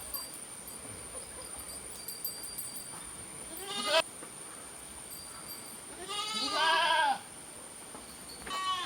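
A Malabari doe and her kid bleat close by in a quiet pen: a brief cry around four seconds, a longer louder wavering bleat about a second long later, and a faint final call, no speech.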